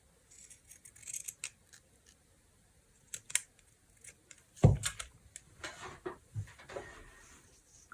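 Scissors snip through fabric for a junk journal project, giving a series of crisp, close, fairly quiet cuts in uneven bursts, with one louder snip near the middle.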